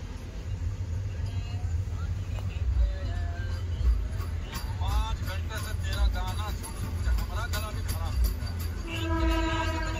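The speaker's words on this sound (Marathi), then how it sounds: "गाडी बघा केवढी हळू चालू आहे।" A Dhule–Chalisgaon local MEMU train rolls slowly past with a steady low rumble, its horn sounding in a couple of harmonic blasts, while people talk nearby throughout.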